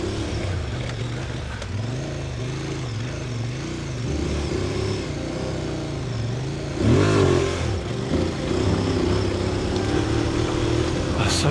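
Adventure motorcycle riding on a gravel mountain pass, its engine droning and revving in rising and falling waves, loud and close with wind noise, then a sharp burst of revs and spinning gravel.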